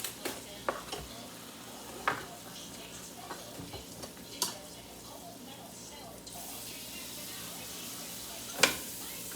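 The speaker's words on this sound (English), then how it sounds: "I will take the scissor and cut them while they're in the pan" Large mushrooms snipped with scissors right in a hot frying pan, sharp intermittent clicks and snips standing out over a steady soft sizzle.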